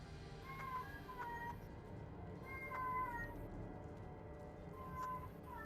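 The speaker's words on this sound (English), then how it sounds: "Whose cat's there? My new kitty's in heat." A cat in heat meows several times in short, quiet, drawn-out calls spaced a couple of seconds apart, over a soft, steady background hiss.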